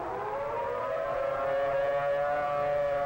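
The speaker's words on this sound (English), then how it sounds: "we think the siren should be activated at the present time." A civil defense tornado warning siren wails steadily, a sustained rising tone held loud and unbroken throughout.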